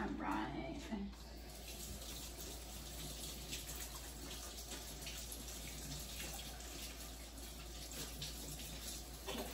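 Hands are rinsed under a running tap in a home kitchen while baking, giving a faint, steady wash of flowing water that lasts throughout, with a little splashing near the start.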